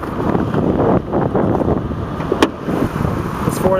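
A 2002 Ford Expedition's Triton 4.6 liter V8 idles steadily under the open hood, a continuous low rumble with some wind buffeting the microphone and a brief click partway through.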